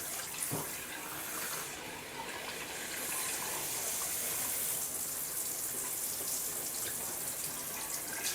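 Hot water rushes steadily from a jetted whirlpool tub nozzle, a continuous broad hiss and splash with no talk, close and constant throughout.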